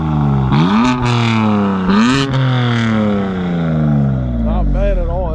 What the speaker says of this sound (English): Let's rev it real quick, see what it sounds like.